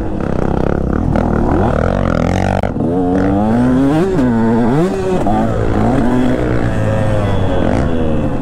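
A KTM 150 SX two-stroke motocross bike engine revs hard on a sandy, slippery track, rising and falling in pitch through repeated throttle blips. The sound is loud, close and continuous, with no speech.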